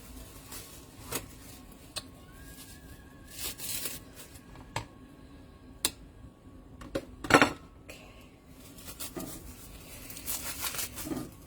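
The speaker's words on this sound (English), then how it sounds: "here comes the cutting" A knife cuts through eggplant on a board, giving a series of crisp, irregular chops and slicing scrapes spread across the stretch, close and fairly quiet, with no voices.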